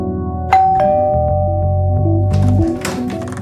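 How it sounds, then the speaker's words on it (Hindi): A doorbell rings at a home's front door in a crime drama, a loud, close two-tone ding-dong chime followed by a faint thunk, with no voices. "अब मेरे 2 ऑफिसर डोरबेल बजाएंगे।"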